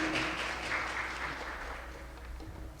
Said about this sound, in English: Please give them once more a round of applause.